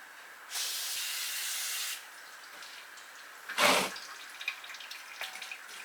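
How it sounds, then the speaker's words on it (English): Brake cleaner sprays onto an oily rear brake assembly in one steady, close aerosol hiss lasting over a second, followed by a short, louder burst and a few small clicks and knocks. "Spray that down with some cleaner on the back, get rid of all the oil."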